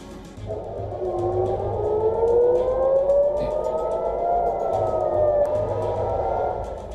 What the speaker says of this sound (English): Sirens sounded across Tel Aviv and central Israel and Jerusalem several times overnight on Wednesday as a warning of incoming Iranian strikes